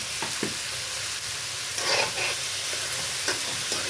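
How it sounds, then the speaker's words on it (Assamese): Loud, continuous sizzling of a ground garlic, ginger, dried chilli and cumin paste frying in hot oil, with brief scraping stirs now and then; no voices. "এইখিনি এতিয়া ভালকৈ ভাজিব লাগিব।"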